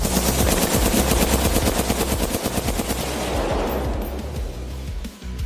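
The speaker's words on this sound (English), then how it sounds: "The battlefield roared with his gunfire." An M60 machine gun fires in long, sustained bursts, loud and close, the rapid shots blurring into a continuous roar.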